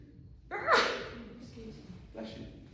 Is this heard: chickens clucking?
no